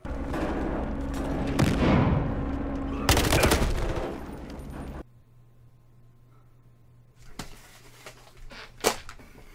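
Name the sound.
gunfire in Battlefield Hardline video game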